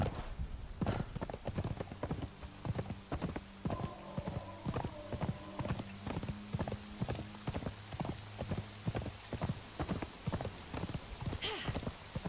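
A horse in the video game Conan Exiles gallops with a steady, even clip-clop of hooves, each hoofbeat distinct, over a faint tonal hum from the game.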